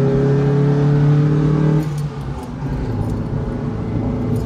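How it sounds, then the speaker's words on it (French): A Mazda MX-5 NBFL roadster on a winding mountain road holds a steady engine drone, then drops a gear with a brief dip and rises into a revving pull, close and loud with no talk. "Je vais même en rétrograder mon auto"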